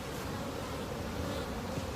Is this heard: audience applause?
no